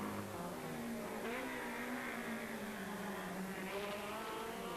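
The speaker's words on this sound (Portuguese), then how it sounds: "esteve à frente de Jorge Petis, mas o piloto do BMW M3 conseguiu recuperar a sua anterior posição ao passar o Sierra do campeão nacional." Race cars, including a BMW M3 and a Ford Sierra, at the 1991 Vila Real street circuit: a steady, fairly faint engine drone with rising and falling revs as cars pass, continuous throughout.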